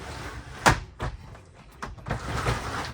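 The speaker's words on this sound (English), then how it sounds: "The shower door." The shower door of a Mercedes Sprinter campervan conversion is handled with a sharp knock, then several softer thuds and clicks as it opens and closes, close by and quiet, with no talk.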